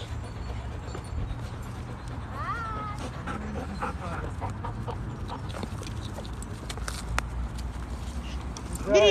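A six-month-old Malinois puppy pants quietly outdoors during a walk, with a brief high whimper partway through over a low, steady background hum and scattered faint outdoor noises.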